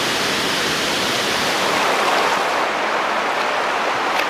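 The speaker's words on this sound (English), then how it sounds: "that waterfall is definitely worth a visit, definitely worth a swim" Rushing water pours down a waterfall on Koh Kood Island, a loud, constant wash of broadband roar close by with no voices present.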